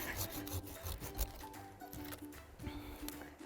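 A pruning saw rasps through a tree branch about an inch thick during winter, with steady back-and-forth strokes close to the microphone.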